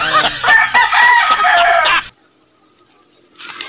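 A loud, close rooster crow rings out for about two seconds, then cuts to near silence before faint noise returns.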